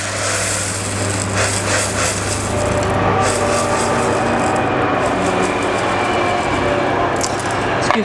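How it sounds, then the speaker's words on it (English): Train rumbling past outside open roof windows, a steady broadband wash with a low engine drone throughout, moderately loud and continuous with no talk. "Excuse the train."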